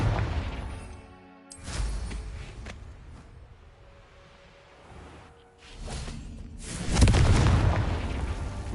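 In Hogwarts Legacy, the Confringo fire spell goes off twice as booming explosive bursts with whooshing tails, the second one louder and longer, with no voices.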